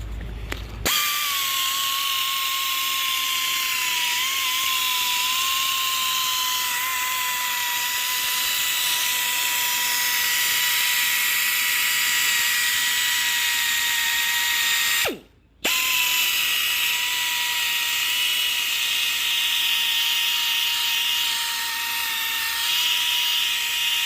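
A power tool sands rock rash from a damaged wheel, running as a loud, continuous whine with one short pause partway through before it carries on steadily.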